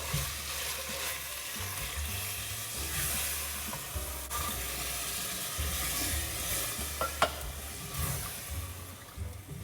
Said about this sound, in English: And keep stirring.